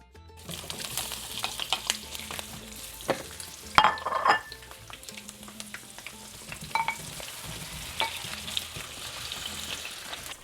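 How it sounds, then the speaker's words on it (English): Prepped salsa ingredients and peeled garlic cloves fry in avocado oil over medium heat, a continuous close crackling sizzle punctuated by utensil clinks and stirring. "Carefully pan fry all of the prepped ingredients."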